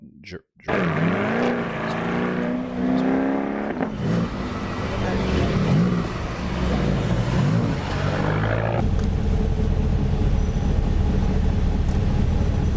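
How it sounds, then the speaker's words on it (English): Chevrolet C8 Corvette Stingray with a pushrod V8, heard from outside as a loud rising rev then a deep rumbling run that drops into steady engine roar, with someone talking over it. "You can hear it sounds pretty traditional. It's pushrod V8. This is how big pushrod V8 sound."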